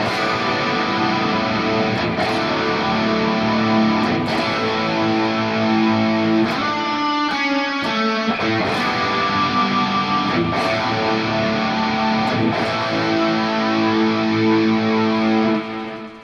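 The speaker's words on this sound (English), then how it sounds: "I have a tremendous amount of reverb and delay on my guitar" An electric guitar plays sustained, washy chords with heavy reverb and echoing delay, notes ringing and overlapping throughout.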